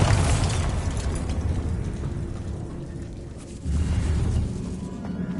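A booming Bombarda spell blast in Hogwarts Legacy on PS5, a loud rumbling burst with debris-like crackle that eases off, then a second heavy surge of rumble.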